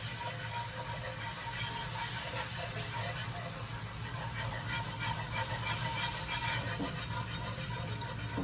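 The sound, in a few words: broth poured gradually into meatball cream sauce pan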